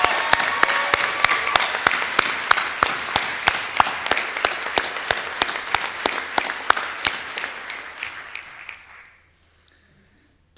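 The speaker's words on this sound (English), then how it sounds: "So I think we should give another rousing round of applause to my colleagues." Audience applause at a Bury College graduation ceremony at The Met, a dense sustained clapping from a large crowd with sharp individual claps standing out, gradually thinning and fading into silence near the end.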